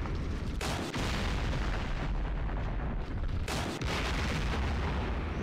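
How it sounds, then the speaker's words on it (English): Rocket artillery fire in the John Tiller Campaign Series wargame on the Eastern Front, a loud, dense, continuous rumbling barrage with two short gaps, no talk. "rocket artillery there"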